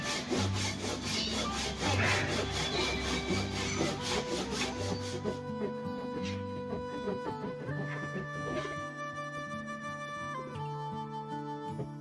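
A sharp manual hand saw cuts through wood in fast, rhythmic rasping strokes, loud and close, for about five seconds before the sawing fades under tonal background music.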